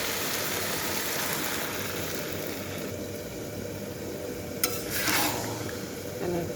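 Leafy greens being stirred and fried in a pan for a potato and boiled-egg curry, a steady close sizzle with soft scraping of a spatula, a brief clink and brighter stirring bursts near the end.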